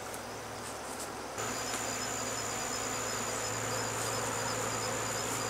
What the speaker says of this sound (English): So I put them out here for the bees to clean up after I was finished.